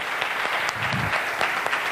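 Audience applause for a mentor at a Safe Shop business seminar in Gujarat, steady dense clapping from a crowd filling the room throughout, with no voices over it.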